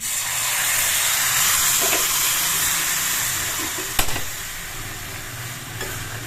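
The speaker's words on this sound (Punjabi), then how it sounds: "ਆਪਾਂ ਸਾਗ ਨੂੰ ਤੜਕਾ ਆਪਣਾ ਤੜਕਾ ਪੂਰਾ ਭੁੰਨ ਚੁੱਕਿਆ ਤੇ ਇਹਦੇ ਵਿੱਚ ਪਾ ਦਨੇ ਥੋੜਾ ਜਿਹਾ ਗਰਮ ਪਾਣੀ" Hot water splashes into a fully roasted, sizzling tempering for saag in a home kitchen, a steady loud hiss and crackle of steam that slowly fades, with a sharp clank partway through.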